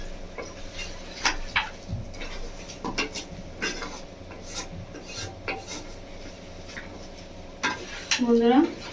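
Mutton and turmeric being stirred and sautéed in a pot, scraping and rasping of a spoon against the metal in irregular strokes, close but fairly quiet, with a brief voice near the end.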